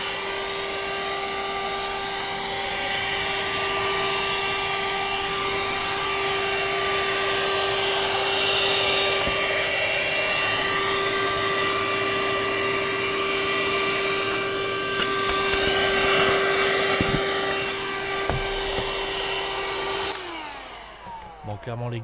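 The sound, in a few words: vacuum cleaner running while cleaning a BMW Z4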